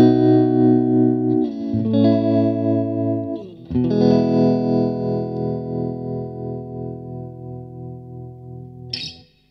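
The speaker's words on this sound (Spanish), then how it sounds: "vamos a escuchar ahora un trémolo lento y con poca profundidad" Orange TremLord 30 guitar amplifier playing sustained electric guitar chords through a slow, shallow tremolo, with the volume gently pulsing over ringing notes, a brief pause partway and a bright pick scrape near the end, loud and alone.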